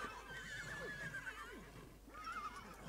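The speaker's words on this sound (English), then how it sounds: "What the fuck is with all these horses?" Horses in The Sims 3 neigh and whinny repeatedly in a back garden, several calls overlapping at moderate volume over a steady game ambience, with faint hoof clip-clop.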